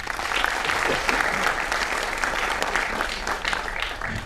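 An audience at a Malayalam film event led by director Jis Joy applauds loudly, a dense, sustained clapping from many hands that fills the room with little variation.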